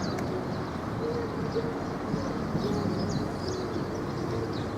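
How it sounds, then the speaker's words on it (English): Bird calling at a Hammamet, Tunisia resort, faint repeated chirps and cooing over steady outdoor background noise, no talk. "It's a bird."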